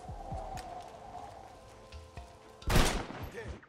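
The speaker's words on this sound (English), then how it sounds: "gunshot's pretty loud" Gunfire from the Western video game Red Dead Redemption, a loud burst of shots erupting near the end after a stretch of quieter game ambience with soft sharp ticks, with the blasts tailing off into rumbling echo.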